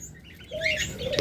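Rainbow budgerigars at a bird market give a few short, bright chirps and tweets, close and fairly soft, with no talking over them.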